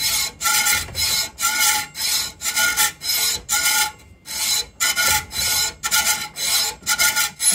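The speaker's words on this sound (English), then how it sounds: "You can hear it cutting there, and that's cutting through that metal" A hand saw cuts through metal on the back stroke, giving a steady run of rasping strokes about two per second, close and fairly loud, with one brief pause partway through.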